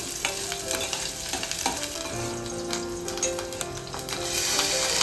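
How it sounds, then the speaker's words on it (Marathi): Sliced onion and curry leaves fry steadily in hot oil in a pan for a Maharashtrian meal, giving a continuous close sizzle broken by the scrape and clink of a stirring spoon throughout. "तर इकडे ना कांदा आपण छान असा तेलावरती परतून घेत आहे त्याच्यामध्ये आपण कढीपत्ता देखील टाकलेला आहे"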